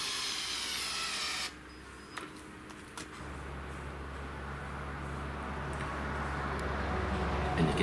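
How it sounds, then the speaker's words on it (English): A Metabo SB 18 LTX BL brushless 120Nm German-made hammer drill drives 12mm coach bolts, its steady low motor drone running close and loud under a brief burst of sharper whine, with no talk. "now I've got the new brushless 120 Newton meter drill of this review, driving the same 12mm coach bolts"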